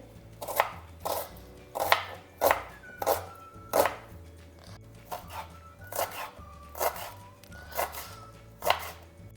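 A medium-sized onion being finely chopped with a knife on a board: a steady run of crisp, close knife strikes, roughly two per second, each with a sharp thud and crunch.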